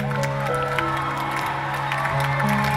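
A concert audience at the United for Ukraine benefit show, during a performance, cheers and shouts together in a steady, dense roar that blends with music and holds level throughout.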